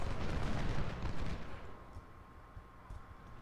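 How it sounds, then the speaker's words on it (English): Cannon fire from a fort in the Civil War video game Ultimate General: Civil War, a dense rumbling barrage of booming shots that fades to a softer, distant rumble with scattered faint reports. "They've got cannons, which we haven't got any artillery at the minute."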